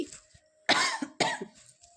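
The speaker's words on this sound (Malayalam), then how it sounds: "ചുമ തന്നെയാണ് കേട്ടോ ഈ ഇടക്കിടക്ക്" Two sharp, harsh coughs about half a second apart from a person with a sore throat, close and fairly loud, with a quieter throaty sound before them and a fading tail after.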